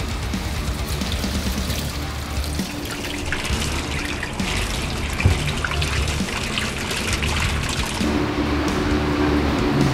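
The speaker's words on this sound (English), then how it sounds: "And rinse it with hot water to get the soapiness off" Hot water from a tap runs steadily over a Harley-Davidson Milwaukee-Eight air filter, rinsing off soap in a continuous close trickle and splash with a few brief bumps.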